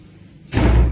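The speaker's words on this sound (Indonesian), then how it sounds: "itu suara pintu dibanting" A door slams shut halfway through after a quiet lead-in: a single sudden, loud, booming thud that lingers briefly.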